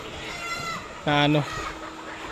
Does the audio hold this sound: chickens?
yes